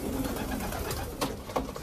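Pigeons coo softly in a rural loft, low throaty calls rising twice over a busy, noisy background with no speech.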